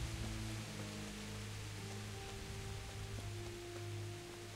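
Steady, dense rain hiss in the video game Kingdom Come: Deliverance fills the scene, with faint low tones humming underneath; continuous and even throughout, no voices.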